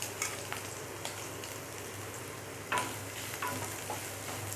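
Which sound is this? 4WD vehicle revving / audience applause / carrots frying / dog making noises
carrots frying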